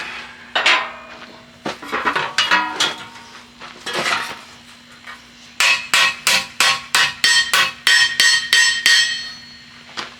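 A ball peen hammer strikes metal while a forge is being built: scattered ringing clanks at first, then a quick, regular run of sharp metallic blows.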